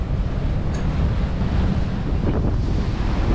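Strong wind buffets the microphone while waves and surf rush steadily around a boat at sea headed to Capri off the Amalfi Coast, a loud, constant roar with no voices.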